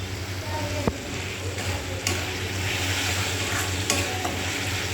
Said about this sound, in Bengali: মশলাটা সুন্দর করে কষিয়ে নেব